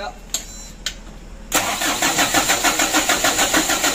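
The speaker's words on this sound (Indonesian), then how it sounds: "lanjut kita starter dulu, kita naikkan minyaknya" A rebuilt Mitsubishi Canter HD 125 PS truck engine is started. Faint clicks come first, then the engine cranks loudly and settles into a steady, pulsing idle close by.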